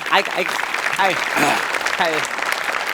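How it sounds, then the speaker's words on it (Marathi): Audience applause at a Marathi comedy show's grand finale: steady, dense clapping fills the full three seconds at a constant level, with voices talking and calling out over it. "एकदा जोरदार टाळ्या झाला पाहिजेत."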